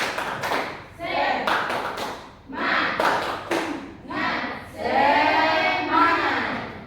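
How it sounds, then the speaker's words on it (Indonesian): A group claps in rhythmic bursts, pausing between sections, mixed with shouted chanting voices; the final burst is loudest. "berikan tepuk semangat untuk kelompok A. Tepuk semangat"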